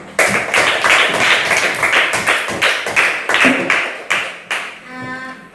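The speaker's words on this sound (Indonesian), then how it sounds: "Kita beri aplaus untuk kelompok 3." Classroom applause for group 3: a quick burst of hand claps from a small group, close and lively, fading out after about five seconds.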